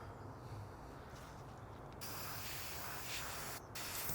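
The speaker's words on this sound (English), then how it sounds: "I found spray adhesive. I'm gonna go ahead and use that." Spray adhesive hisses from an aerosol can in a steady, faint spray that grows denser halfway through, with a short pause before it resumes; no one speaks.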